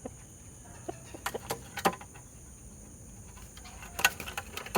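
Sporadic short clucks from a molting rooster, a few sharp bursts spaced irregularly over a faint steady hiss, with no one talking.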